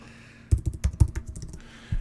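Fingers tap out a quick burst of keystrokes on a computer keyboard, close and crisp, after a quiet start, then pause before one more key press at the end.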